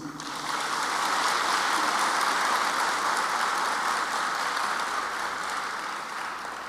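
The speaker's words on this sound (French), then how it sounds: "À vous, 1000 merci et 1000 salves d'applaudissements." Sustained applause from a large audience at a university graduation ceremony, a dense, steady wash of clapping that swells in at the start and holds loud and even throughout without any voices.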